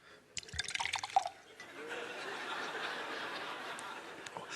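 A comedian on stage imitates water filling a bathroom sink, voicing a quick burst of drips and splashes, followed by a broad, steady wash of audience noise.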